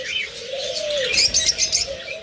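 Near and clear, a creamino opaline pet bird pair calls: one drawn-out tweet, then a rapid string of sharp chirps, with no voices over them.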